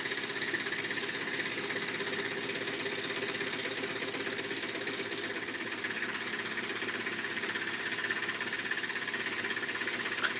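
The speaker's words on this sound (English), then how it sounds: "my other saw is rattling behind here because it's like loose." A loose saw rattles while running in a workshop during elephant scrolling, a continuous buzzing mechanical vibration with a fast fine rattle, steady and fairly loud throughout with no talk.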